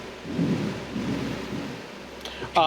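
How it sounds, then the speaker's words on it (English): Thunder from an actual storm outside a room rolls as a low, sustained rumble with rain noise, followed near the end by a brief burst of voices. "that's thunder"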